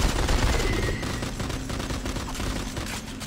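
Sustained gunfire from a gun in the sci-fi horror shooter Dead Space 3, a continuous rapid crackle of shots filling the whole moment at moderate loudness, with no speech.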